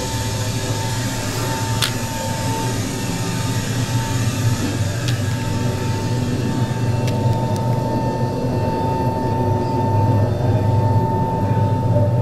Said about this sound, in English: this is our airplane landing there